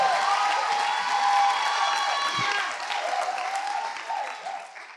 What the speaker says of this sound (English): Come on, clap your hands, all ye people from the back.